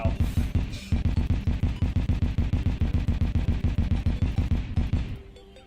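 A fountain item in Terraria sprays with a rapid, evenly spaced burst of punchy pops for about five seconds, then tapers off quietly.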